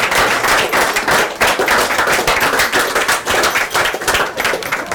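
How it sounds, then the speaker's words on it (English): Audience round of applause on a Friday night entertainment show: loud, continuous clapping from a crowd throughout, dense and close, with no speech over it. "let's give it a round of applause"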